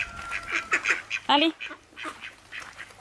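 A duck eating fries gives several loud, raspy quacks close by, mixed in with someone speaking French.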